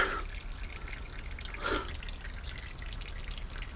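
Coolant dripping as it drains from the cooling system of a BMW E46 or E39, with soft, irregular drips over a low, steady background hiss and no voices.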